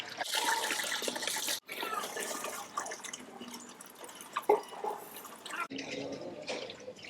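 Several cans of water poured into a large pot for a wedding-style Mughal biryani, a steady gushing splash with a brief break midway and a shifting, trickling tail.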